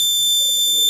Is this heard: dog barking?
no